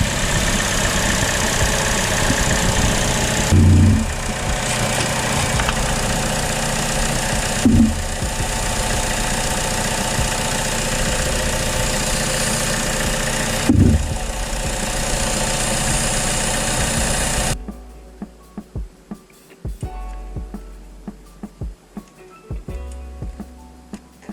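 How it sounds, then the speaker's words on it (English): A 2015 Buick Encore 1.4 Ecotec engine idles steadily with a low rumble, briefly revving a few times, then cuts out, leaving faint rattles and quiet. "It's not idling hard."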